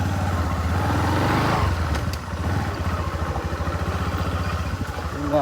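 A motorcycle engine idles close by with an even, pulsing throb that shifts partway through, and a voice briefly talks over it.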